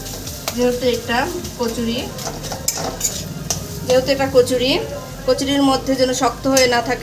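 A spatula tip mashes boiled chicken and potato for a chicken kachori filling in a pan, with soft scraping, stirring and light metallic clinks throughout while someone talks.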